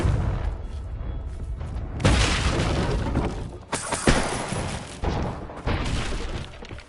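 Fiery spell blasts from Hogwarts Legacy, the Confringo curse, erupt in a few loud crashing bursts with rumbling, debris-like tails between them, dense and close.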